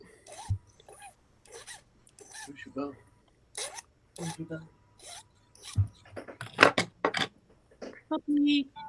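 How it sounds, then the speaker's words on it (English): A large metal file cuts a 45-degree bevel into a workpiece, rasping in short, separate strokes with brief pauses between them, fairly close and moderately loud. "Now I'm going to put a file on this side. I'll use the bigger file because it goes a little faster."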